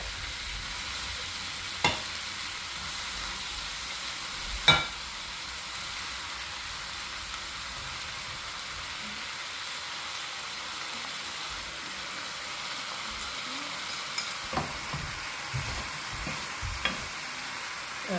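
A steak sizzles in a pan, returned to cook with pasta, all-purpose seasoning and chili flakes. The frying is soft and continuous, broken by a few sharp clinks of utensils.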